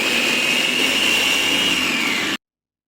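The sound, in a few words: blender mixing ingredients with black pepper and salt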